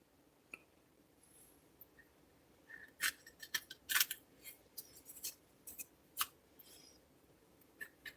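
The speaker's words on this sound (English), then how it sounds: "Excuse me while I try to figure out how to cut this open" A mail package is cut open with scissors, giving sparse, quiet snips and crisp plastic crinkles in short bursts against a hushed room, with no talking.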